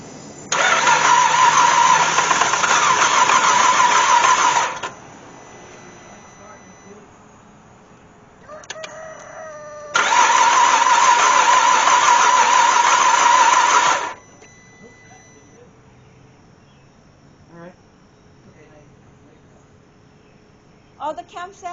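A Cadillac CTS, just fitted with a new cam sensor, cranks in two loud starter bursts of about four seconds each, separated by a lull of quieter, lower running sound, then settles into a softer background with faint clicks.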